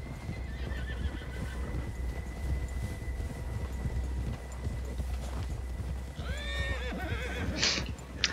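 A horse whinnies several times in Red Dead Redemption II, with its neighs rising clearly near the end over a steady low rumble of hooves and ambient game sound.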